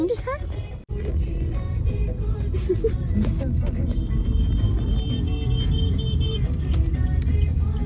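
A car's engine rumbles steadily close by for several seconds, low and continuous, while voices talk over it.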